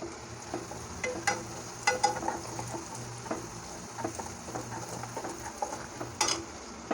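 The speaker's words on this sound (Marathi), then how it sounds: "तर ह्या ठिकाणी आपला कांदा देखील फ्राय होत आला आहे" Onion frying in a pan for pav bhaji gives a low, steady sizzle with scattered light ticks and soft stirring scrapes, close and moderately quiet, with no talking.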